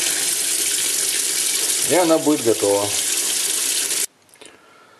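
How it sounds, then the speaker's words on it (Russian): Water from a kitchen tap gushes steadily and close for about four seconds while someone speaks briefly over it, then the flow cuts off abruptly, leaving quiet room sound. "Охлаждаем, я еще открою воду."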